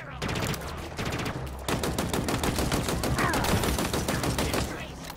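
Rapid automatic gunfire from a gun in the video game Halo Infinite rattles in dense, continuous bursts, loud and close, with a brief pause between volleys.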